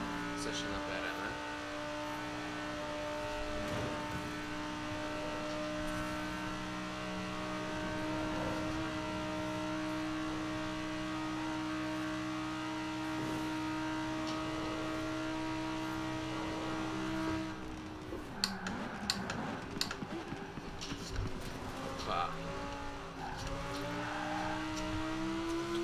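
Audi R8 5.2 TFSI accelerating in Forza Horizon 4, a steady loud engine drone holding one pitch, then a shift near the end into rising, busier revving with bursts as the car gathers speed.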